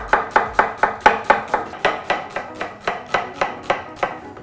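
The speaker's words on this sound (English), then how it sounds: "But first up, finely chop a red onion." A knife finely chops a red onion on a cutting board in a steady, rapid rhythm of about a dozen sharp, close taps, with no talking over it.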